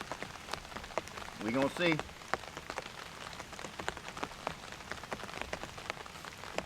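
Heavy rain patters steadily on a tent while camping in a storm, with a brief spoken voice partway through.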